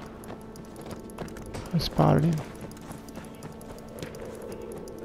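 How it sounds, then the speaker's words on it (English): Horse hooves clip-clopping at a gallop in the video game Battlefield 1, with a brief neigh and a player's voice over the hoofbeats and keyboard clicks. "It's a horse."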